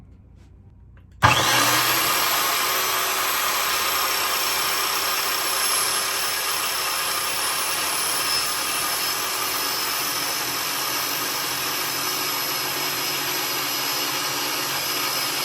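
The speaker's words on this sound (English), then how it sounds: "you want to start the blade running before you touch your material" A circular saw abruptly starts up and keeps running at a steady, loud, high-pitched whine for a long stretch without talk.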